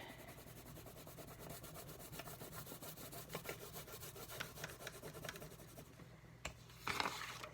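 Wax crayon rubbing back and forth across paper while laying down an orange stripe, a soft, steady, close scratchy scrubbing that continues without pause, ending with a couple of brief louder rustles.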